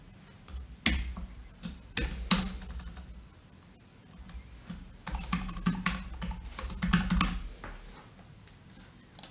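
Someone types a query on a computer keyboard in quick, irregular bursts of close, crisp key clicks, with brief pauses between runs of keystrokes.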